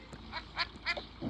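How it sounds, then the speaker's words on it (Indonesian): Quacking or honking from a goose or duck in a Toca Boca video game: a few short, bright calls spread over about a second, close and fairly loud, with no talk over them. "Itu mungkin suara angsa atau apa?"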